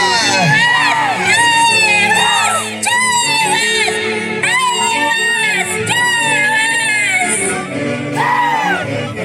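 A lively crowd at an anniversary celebration with a Huancayo band cheers and whoops continuously, with loud overlapping shouts and high voices rising and falling close by.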